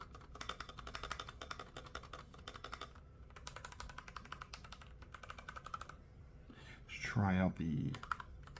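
Typing on an Ilovebee i61 60% RGB gaming keyboard, a rapid run of close clicky keystrokes in bursts with short pauses, ending in a louder clatter near the end.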